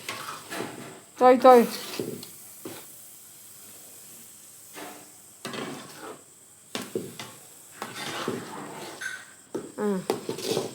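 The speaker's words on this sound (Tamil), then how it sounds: "நல்லா கொதிக்கிட்டு பாருங்கள்" A pot of thick malt mixture bubbles and hisses while a spoon scrapes and stirs against the pot, with a voice speaking now and then.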